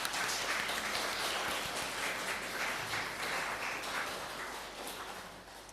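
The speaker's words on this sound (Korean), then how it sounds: "우리 옆에 있는 분들을 박수로 환영하기 원합니다." A church congregation at a Sunday service in Darmstadt applauds to welcome those seated nearby, a steady wash of many hands clapping that carries through the whole stretch and eases slightly toward the end.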